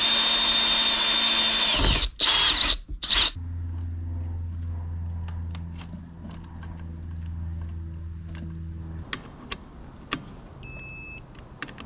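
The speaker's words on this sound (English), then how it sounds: "run the drill down through and just put like a small indentation into it" A power drill whines at high speed, stopping and starting, then runs lower and steadier while grinding into a metal wiper arm, with scattered clicks and clatter.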